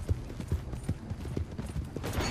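Horse hooves clip-clop in the Red Dead Online video game, a quick, even run of thudding footfalls heard fairly close and alone throughout.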